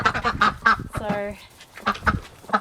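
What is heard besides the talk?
ducks quacking in their run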